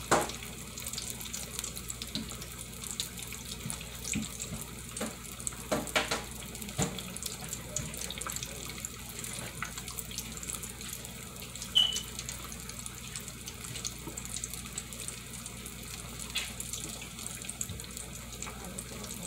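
Water runs steadily from a tap into a sink as shrimp and fish are washed, with soft splashes and clatter of handling, continuous and close, and a little talk underneath.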